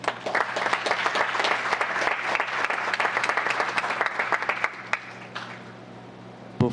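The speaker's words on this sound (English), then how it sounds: "can we have a wonderful round of applause for your team and all your efforts?" A crowd at a town council meeting gives a round of applause, with dense, steady clapping that continues for several seconds before thinning out and fading to a few last claps.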